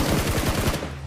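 Rapid automatic gunfire in a PUBG Mobile match, a loud burst of closely spaced shots rattling for under a second before stopping abruptly.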